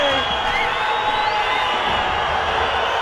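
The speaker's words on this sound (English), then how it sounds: "The crowd not happy." Stadium crowd at a Chivas versus San Jose Earthquakes soccer match reacts unhappily to a foul call, a dense, steady roar of many voices holding loud and even throughout.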